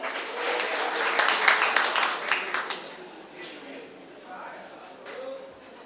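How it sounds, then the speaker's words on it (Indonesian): Clapping rises from an audience at a national seminar on narcotics law, a brief burst that peaks and fades while a speaker's voice carries on over and after it. "Ya, tepuk tangan."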